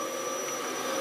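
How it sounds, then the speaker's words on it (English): A household vacuum cleaner runs steadily and close by, a constant broadband whine and roar with no breaks and no speech over it. "sorry for the vacuum noise"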